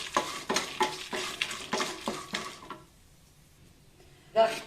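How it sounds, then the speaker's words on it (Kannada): Urad dal frying in a pan with chana dal for a bitter gourd podi palya, stirred in quick scraping strokes over a soft sizzle, then a pause and one more stir near the end. "ಉದ್ದಿನಬೇಳೆ ಸ್ವಲ್ಪ ಕೆಂಪಾಗಬೇಕು."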